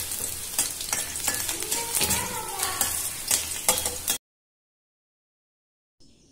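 Ginger and garlic fry in hot coconut oil for a Punjabi-style soya chunks gravy, a loud continuous crackling sizzle with stirring clatter, then a sudden cut to silence before faint sound returns.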